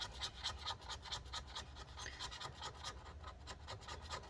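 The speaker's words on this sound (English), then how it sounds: "we're just going to actually scrape at this and scrape all that stuff off" Handheld tool scraping leftover battery adhesive off the aluminum case of a 13-inch Mid 2017 MacBook Pro A1708, a steady close rasping and scratching run of short strokes throughout, no talking.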